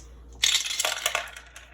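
Dice rolled for initiative in a tabletop wargame, Old School Tactical v2, land with a sudden burst of bright clattering that tumbles and rattles for over a second before settling.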